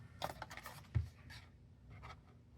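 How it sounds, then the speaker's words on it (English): Card stock being cut down score lines for a paper gathering box, with a few short scraping, rubbing strokes of a blade or trimmer close by and a light tap, faint overall. "cutting down these score lines"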